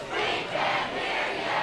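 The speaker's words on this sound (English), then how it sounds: "Andover, the crowd is really getting into it, chanting at the Exeter side of the field" A crowd at an Andover versus Exeter high school football game chants toward the Exeter side of the field, a loud, sustained mass of voices through the whole moment.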